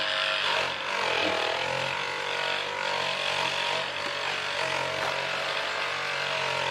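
A wooden root carving being sanded and polished with a steady, close abrasive rubbing and whirring that stays dense and loud without a break and with no voice.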